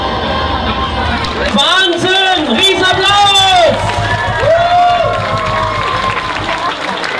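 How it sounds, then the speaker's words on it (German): Crowd applause and cheering at a children's carnival, a continuous loud clapping wash mixed with excited children's voices and shouts, with a whistle-like tone sliding through. "Ein Applaus schon mal wieder."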